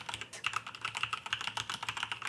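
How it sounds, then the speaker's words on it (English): Fast, light typing on a mechanical keyboard fitted with red linear switches (Cherry MX or Gateron): a dense, continuous run of crisp key clacks close to the listener, with no speech. "Like even right now, I'm barely pressing on it, but the sound coming from the keys,"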